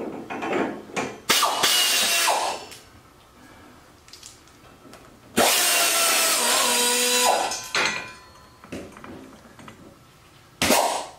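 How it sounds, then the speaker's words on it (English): Bolts being removed from the body of a 2016 Harley-Davidson Tri Glide Ultra, with bursts of ratcheting tool clicks and mechanical scraping, a long loud stretch in the middle, and quieter pauses between. "while I finish taking off the bolts"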